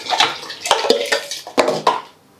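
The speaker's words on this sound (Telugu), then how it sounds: "ఇప్పుడు నానబెట్టుకున్న సగ్గుబియ్యం వేసుకుందాం" Soaked sago pearls tip into a cooking pot of water, a burst of wet splashing and clattering pot and spoon knocks over about two seconds before going quiet.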